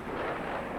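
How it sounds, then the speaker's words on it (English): Loud, continuous rumbling thunder from a storm in the video game Dragon Age: Inquisition, a broad roar filling the whole moment with no talk over it. "that thunder is loud now"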